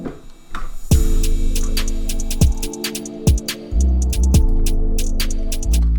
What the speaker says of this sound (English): if we add this in, this you know, build up and crash